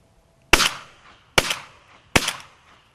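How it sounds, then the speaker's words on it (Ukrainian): Three sharp shotgun blasts at birds during a hunting season opening ring out, evenly spaced about a second apart, each cracking loudly and trailing into a brief echo in otherwise quiet surroundings. "постріл був, але промах"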